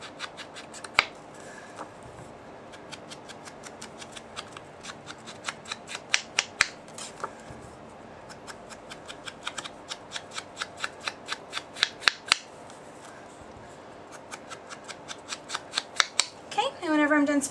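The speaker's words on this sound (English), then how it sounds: "Then I'm going to bring in our sponge dauber and" A sponge dauber is dabbed repeatedly along the edges of a paper anniversary card, giving quick, close, scratchy strokes in bursts with short pauses between them, under occasional quiet talk.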